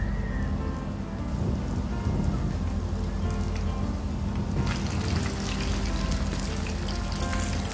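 Rava vada batter sizzles in hot oil with a steady, dense crackling hiss that grows slightly brighter partway through, close and continuous with no talking.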